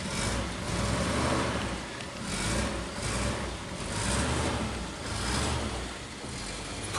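A 1947 Dodge engine, a slow starter, cranking and running: a steady loud mechanical drone with a slow rhythmic swell and fade roughly every second, heard close with no voices.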